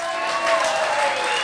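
A live comedy show audience applauding, a short burst of dense clapping from a crowd, steady and moderately loud for a second and a half.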